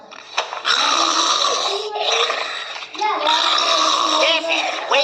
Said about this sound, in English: Come on, you're snoring.